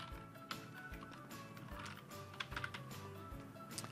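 Quiet keystrokes on a computer keyboard as a Linux update command is entered, a steady run of soft clicks and taps at close range with no speech.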